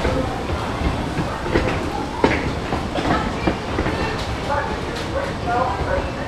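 The Pleasure Beach Express amusement park train at Blackpool Pleasure Beach rumbles steadily along its track with rhythmic clacking, voices murmuring faintly in the background.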